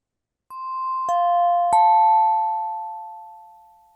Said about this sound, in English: listening to the end of the sound of the chime